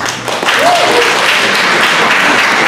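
Audience at a San Francisco mayoral debate breaks into applause, a loud, dense, continuous clapping that swells after a brief pause and holds steady.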